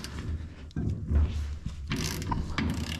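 A hand ratchet tightens a front wheel bearing spindle nut on a 1963 Chevrolet Impala, giving rapid, close clicking in a few short cranking bursts with brief pauses between, with no talking.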